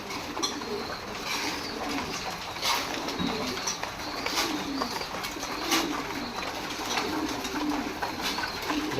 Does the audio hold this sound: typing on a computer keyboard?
no